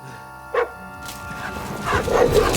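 A dog in the video game Kingdom Come Deliverance II gives a short, sharp bark near the start, with low game sounds and scuffling continuing behind it.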